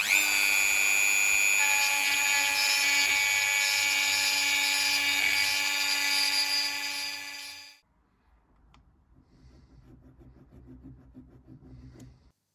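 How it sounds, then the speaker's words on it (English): A Dremel rotary tool grinds open cracks in a Morris Minor steering wheel, a steady high-pitched whine running loud and close for about eight seconds before cutting off, followed by quiet handling noises. "We'll need to open them up with a file or Dremel"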